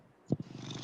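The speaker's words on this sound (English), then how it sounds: "a Norwegian forest cat next to me. You guys can probably hear him purring." A Norwegian forest cat purrs close by in a steady, low rumbling rhythm of soft pulses. One louder breathy pulse stands out near the start.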